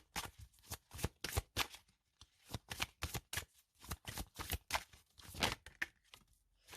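Oracle cards being shuffled by hand in a card reading, a steady run of close, papery riffles and slaps repeating rhythmically for several seconds, with no talking.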